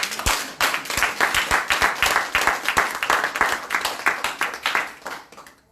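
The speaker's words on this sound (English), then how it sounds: "I would like you now to put your hands together again" At a London crypto conference, the audience claps in a strong, regular rhythm, close and loud, each sharp beat spaced evenly before tapering off at the end.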